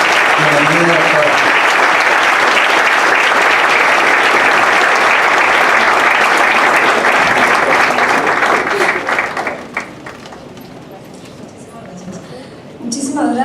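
Loud, dense applause from an audience in Culiacán welcoming a doctor, sustained for about nine seconds before thinning out, with a voice speaking over it near the end.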